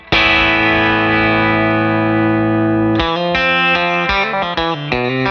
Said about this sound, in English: we've got the blend pretty much fully on the compressor side without blending any dry signal. So it's going to squish a lot.